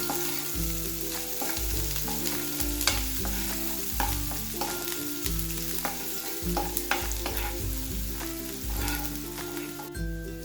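Chopped onion sautés in a pan while making masala oats. A soft, steady sizzle runs underneath repeated scraping and stirring strokes of a spoon, close up, with no talk.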